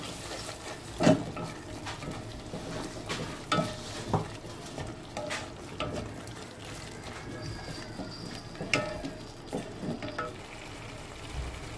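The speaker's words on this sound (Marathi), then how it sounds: "त्याला हलवून घेऊ।" Eggplant and potato curry being stirred in a pan after garam masala and coriander powder go in, with a quiet scraping of the spoon and a soft sizzle of oil, broken by a few sharper clinks of the utensil.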